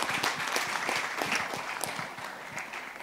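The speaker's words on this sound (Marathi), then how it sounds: "तेजस्विनी आणि वर्धासाठी सुद्धा जोरदार टाळ्या" Audience applause at a film trailer launch event: a dense, steady wash of clapping with distinct individual claps, moderately loud and continuous throughout, with no talk over it.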